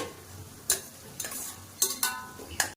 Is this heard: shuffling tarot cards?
no